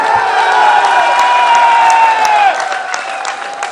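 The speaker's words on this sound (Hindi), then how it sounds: "इसके लिए तालियां बजाएं।" A large crowd at a bar association convention in Gujranwala claps and cheers loudly with whistles and whoops, a dense roar of applause that eases slightly near the end.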